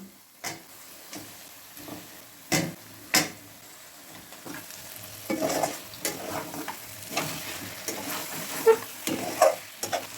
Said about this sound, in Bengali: তেল ছেড়ে গেছে এবারে আমি সিদ্ধ করে রাখা মাটনগুলো দিয়ে দিচ্ছি